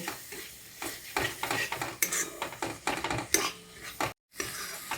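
An egg and soybean masala is stirred in a pan over a low gas flame, the spatula clanking and scraping against the metal in quick, busy strokes over a light sizzle, with one brief silent break.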